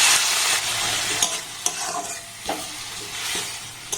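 A potato and flour snack mixture with carrot and salt is stirred and fried in a pan: a constant loud sizzle close by, broken by repeated scraping strokes of the spoon, with no talking.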